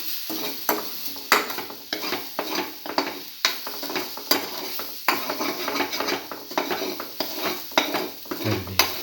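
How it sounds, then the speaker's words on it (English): Eggs are stirred and scrambled in a sizzling pan with a coconut and cinnamon stir-fry mixture, the utensil scraping and clacking in a brisk, steady rhythm at close range, with no talk. "Thoroughly scramble and mix eggs with the rest of the mixture"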